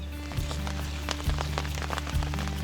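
Rain falling steadily at a fishing spot on a windless day, pattering on the large umbrellas overhead, a dense continuous crackle of drops with low thumps now and then.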